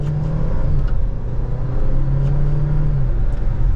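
A 2023 Dodge Hornet GT Plus AWD accelerating, its engine droning steadily and loudly from the cabin with a rising, sustained hum and road rumble, no talking.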